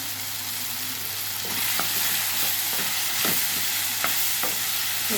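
Drumsticks fry in oil in a pan as turmeric goes in, giving a steady close sizzle with soft stirring scrapes and light taps from a spoon against the pan. No one speaks.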